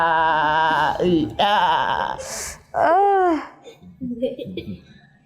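A person imitates a goat with bleating, wavering cries, delivered in a few loud bursts mixed with other voices talking and some vocal babble.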